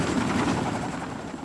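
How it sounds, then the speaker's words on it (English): A military helicopter from the Army National Guard during the 1989 Bay Area quake, with a close, loud, steady rotor thump churning throughout the short stretch. "Military helicopters will take up the slack for mail trucks, delayed by detours and closings."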